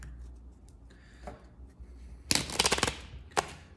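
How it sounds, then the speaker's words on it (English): A deck of oracle cards is shuffled during a tarot-style reading, giving a short, crisp burst of riffling and flicking after a quiet stretch, followed by one more brief snap of cards, with no talking. "I want to give it one more shuffle."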